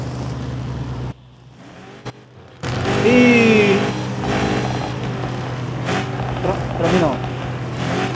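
Revving car engine in the mobile game Car Parking Multiplayer, at a classic-car meet with an engine sound battle: a loud rising and falling rev that swells after a brief quiet gap, with people talking over it.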